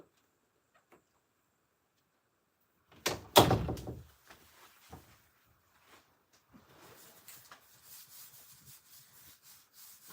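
A household door swings open to let a dog outside, giving a loud close knock and scrape followed by quieter rubbing and shuffling movement.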